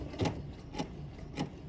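A BERNINA sewing machine running a pre-programmed button sew-on stitch, giving three soft, evenly spaced mechanical thumps about half a second apart, each a short rattle over a quiet motor hum, close and fairly faint with no talk.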